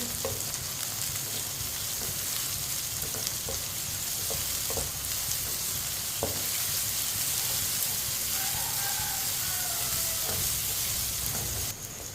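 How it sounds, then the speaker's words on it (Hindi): Finely chopped onion fries in a pan for a ridge gourd (tori) sabzi, giving a steady, close, continuous sizzle with faint crackles and no voices. "एक बारीक कटा हुआ प्याज डालेंगे। प्याज को भी 2 मिनट के लिए पका लेंगे।"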